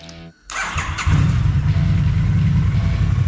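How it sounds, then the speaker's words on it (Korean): A Triumph Street Twin motorcycle engine cranks briefly, catches on the first try and settles into a loud, close, throbbing idle that carries on evenly. Background music plays underneath. "강력하게 한 방에 시동이 걸렸습니다."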